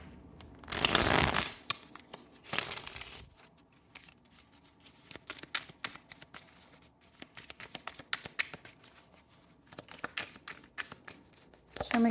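Tarot cards being shuffled in two loud riffling bursts, then pulled and laid down with soft taps and snaps close by, with no talk.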